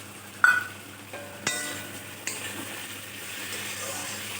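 Masala stir-fried in a pan for egg pulao with cashews, raisins and fried eggs added, a few clinks and spoon scrapes over a soft, quiet sizzle.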